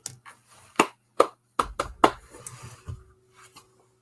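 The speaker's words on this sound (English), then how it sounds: "Can you clap your hands" A few sharp, separate hand claps ring out in a quiet room, a loose scattered group of about five slaps with short gaps between them, followed by faint rustling and a soft tap.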